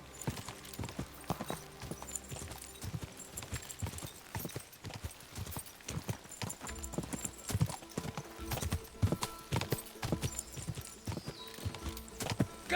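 A horse gallops hard in Kingdom Come: Deliverance 2, with dense rapid hoofbeats pounding close and loud throughout, a brief whinny mixed in and a steady rush of movement around it.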